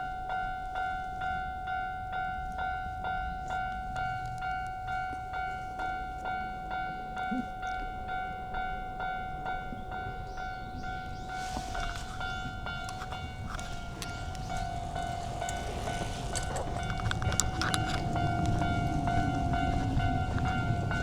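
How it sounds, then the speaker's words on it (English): A train passing near a crossing in Tokyo, with a steady tonal ringing or hum throughout and rumble building louder toward the end as the cars approach and roll by, heard outdoors without talk. "Uh-oh, choo-choo time."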